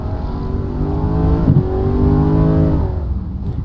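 DTM race car in a Jamaican Grand Prix round, loud close engine roar with a rising then dipping pitch as the driver brakes hard and locks up, briefly scrubbing, then accelerates again steadily.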